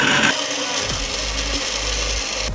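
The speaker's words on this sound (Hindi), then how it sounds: "हमने इसमें डाल दिए हैं अपने सारे मैंगोज़ और हम इसे अच्छे से ब्लेंड कर लेंगे" A mixer grinder whirs loudly and steadily as it blends mango pieces with half a cup of milk, a continuous motor drone with a brief change at the start, running alone without talk.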